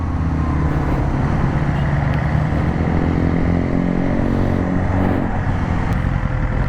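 A BMW S 1000 XR sport adventure motorcycle being ridden, a loud continuous engine drone with rumbling low tones and wind roar, steady and close throughout.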